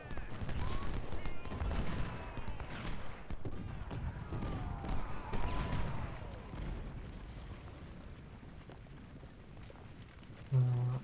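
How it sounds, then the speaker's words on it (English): Artillery booms and musket volleys in the Ultimate General: Civil War game roll on as dense, continuous battle noise, loud at first and fading slightly, ending with one sharper burst. "our artillery's firing on those skirmishers"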